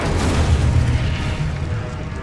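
Incendio fire spell cast in Hogwarts Legacy, a loud, dense burst of low booming rumble that stays heavy and sustained throughout, like a continuous fiery blast.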